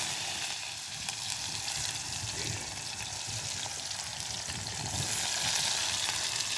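Small onions and cumin frying in oil for a fish curry, a loud, steady sizzle that stays close and constant throughout, with occasional faint stirring.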